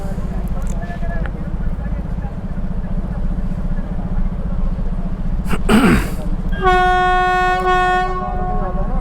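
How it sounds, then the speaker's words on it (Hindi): A loud train rumbles steadily nearby, then its horn blasts a long, sustained tone near the end, with a person talking over the noise. "ये हॉर्न दिया।"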